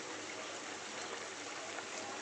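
Mustard fish curry made with parshe fish pours steadily into a dish, giving a soft, continuous liquid trickle for a couple of seconds with no speech over it.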